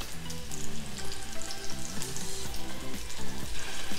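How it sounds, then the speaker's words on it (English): Swedish meatballs fry in a pan, a dense continuous sizzle with crackling pops and the rattle of the pan being shaken or stirred, close and steady throughout with no talk. "You want them pretty golden brown on all sides, you know, stirring or shaking the pan often so that all the sides of the meatballs get cooked."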